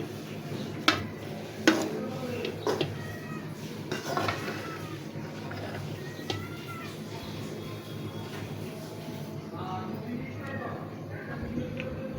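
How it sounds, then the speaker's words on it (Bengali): Khichuri made with ordinary rice is stirred in a cooking pot, with sharp metallic clanks and scrapes of a spoon against the pot at the start, then softer scraping under a low background hum. "তো এখানে ভালোভাবে আমি একটু মিশিয়ে নিচ্ছি।"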